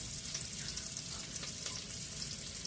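Onions frying in a pot give a steady, close sizzle that carries evenly from start to finish, with faint crackles on top and no voices.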